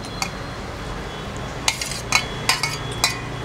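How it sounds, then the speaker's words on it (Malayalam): Cut quail eggs being mixed into masala in a bowl, with a handful of light utensil clinks and scrapes against the dish over a steady low background hum. "നന്നായി മിക്സ് ചെയ്യാം"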